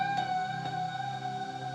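An electric guitar note played without a volume pedal swell rings out with a sustained, harmonically rich tone and a clear attack, held alone and fairly quiet.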